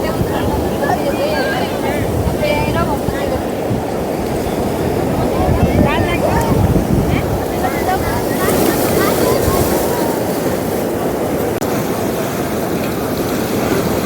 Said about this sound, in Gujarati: નીવાબેન ને દીતીબેન જો દરિયાથી હટક્યું ને દરિયા જ ઉભ્યું મોજા જોવે